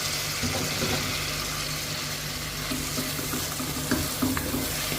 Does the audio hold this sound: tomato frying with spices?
yes